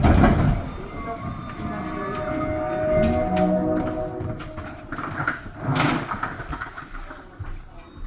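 Inside a moving REM light-rail train, a rumbling rolling hum with rising and falling whines, clunks and rattles shifts in loudness, with no one speaking.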